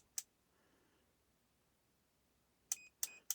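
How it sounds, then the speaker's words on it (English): Short sharp electronic beeps from an NJTY T21L digital multimeter: one alone near the start, then a quick cluster of three close together after a quiet pause. "So it only beeps after it warms up."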